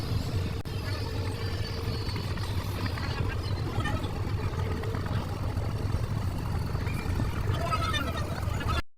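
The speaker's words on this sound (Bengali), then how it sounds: "এখন আমাদের লঞ্চটা তার গন্তব্যস্থানে পৌঁছানোর জন্য এখন ছেড়ে দিয়েছে" A passenger launch boat's engine drones steadily and continuously as the vessel departs, a low constant rumble with a voice speaking over it.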